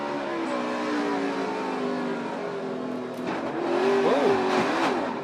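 Stock cars racing at Daytona, heard from onboard Danica Patrick's NASCAR car, with steady loud engine drone throughout and rising, whining revs and passing-car noise growing stronger near the end.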